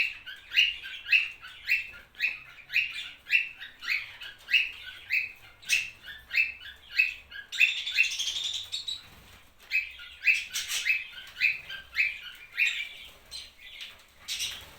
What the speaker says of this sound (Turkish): Sultan papağanlarımız şu an çiftleşiyorlar.